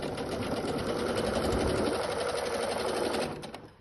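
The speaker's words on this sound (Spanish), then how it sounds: "pasamos una costura paralela a la costura anterior" A sewing machine runs a parallel seam beside an earlier one, joining the seams on the lining side: a steady, fast mechanical whir that holds nearly throughout, close and loud, then winds down at the very end.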